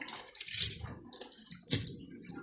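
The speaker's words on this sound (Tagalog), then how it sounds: "So, hugasan ko lang po mga kaguro itong alugbati sa hapon." Malabar spinach (alugbati) leaves washed under running water, a close splashing gush that swells and recedes twice, with sloshing and light dripping.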